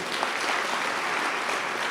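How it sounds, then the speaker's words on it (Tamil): An audience at a Tamil literary talk applauds the director, a steady, even roar of many clapping hands lasting the whole moment, moderately loud. "இயக்குனருக்கு இன்னொரு கைத்தட்டல் கொடுங்க ஐயா."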